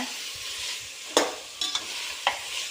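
Tomatoes sauté in a pan for seeraga samba chicken dum biryani, making a soft, even sizzle broken by three or four distinct scraping stirs of a spoon against the pan.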